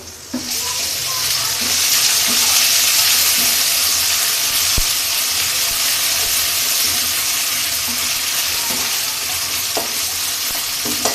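Onions with ginger paste frying in hot oil in a pan for a Bengali kochur ghati and mutton dish, a steady loud sizzle with occasional stirring scrapes and clinks throughout, no talking.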